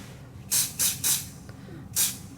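Spray can of CA glue activator misted in short bursts, four sharp hissing puffs with brief pauses between them, close and clear with no talk.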